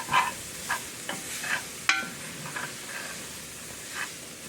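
Trinity vegetables sizzling on low heat in a gumbo roux as they are stirred, with a soft steady hiss and several gentle scrapes of the spoon across the pot at irregular intervals, and no voices.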